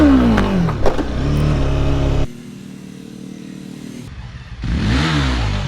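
A motorcycle engine revs hard during night-time wheelie practice as the rider pops the clutch. It drops to a low idle, then climbs into another loud rev near the end, with no voices.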